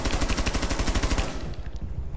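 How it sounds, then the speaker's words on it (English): Rapid automatic gunfire shooting through a wall in Rainbow Six Siege, a steady burst of about twenty close, loud shots over a second and a quarter, then stopping into quieter room noise. "I'm just shooting through the wall"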